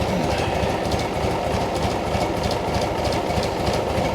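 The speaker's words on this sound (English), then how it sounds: "This actually idles kind of nice when it's cleaned up." A Cub Cadet 1872 lawn tractor engine idles steadily up close, a constant even putter with rapid rhythmic pulsing and no talking.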